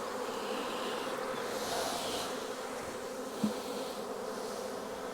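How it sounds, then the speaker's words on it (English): Honey bee swarm being gently tapped and brushed into a hive, a dense continuous buzzing hum close by, with one soft knock partway through and no talking. "So I'll just tap the rest of these bees in."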